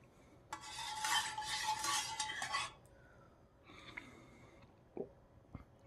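A Chinese PLA military ration drink is stirred in a cup, with a brisk burst of close spoon scraping and rattling, then quieter clinks and a couple of light taps.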